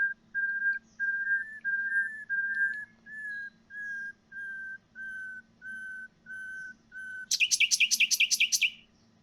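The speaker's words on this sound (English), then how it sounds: "nightingales are able to match the pitch of synthetic whistle playbacks across the entire production range" A nightingale sings against a synthetic whistle playback and matches its pitch. A steady series of pure whistled tones comes first, held at one pitch with short gaps between them. Then comes a loud, rapid run of bright bird notes. The recording is clear and close.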